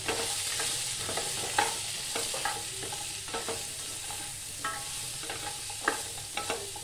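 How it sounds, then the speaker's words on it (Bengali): Pumpkin sprinkled with turmeric and chilli powder is stirred as it fries in a kadai. A soft, steady sizzle runs underneath while the spatula makes repeated light scraping taps against the pan. "একটু হলুদ, একটু নাড়াচাড়া করতে হবে।"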